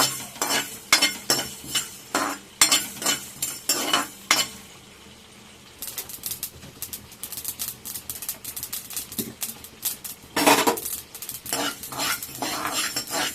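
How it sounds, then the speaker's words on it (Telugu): Masala spices are dry-fried and stirred in a kadai for fish pickle. A utensil scrapes and clinks against the pan in quick, steady strokes, with a soft sizzle underneath and a short quieter pause partway through. "ఇదంతా మంచి స్మెల్ వచ్చే వరకు ఫ్రై చేసుకోవాలి"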